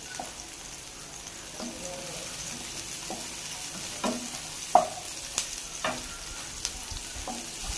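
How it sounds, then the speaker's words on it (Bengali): Onion and tomato fry and sizzle in a pan, with a steady hiss broken by scattered sharp clinks and scrapes of a spoon stirring; no one talks. "পেঁয়াজ আর টমেটোটা ভাজা ভাজা হয়ে গেছে।"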